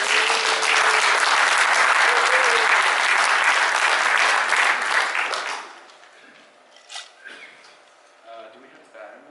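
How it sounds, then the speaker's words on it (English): Loud applause from an audience for a group of honorees fills the first six seconds, then breaks off abruptly into a quiet room with a few faint scattered sounds. "they should get a nice round of applause."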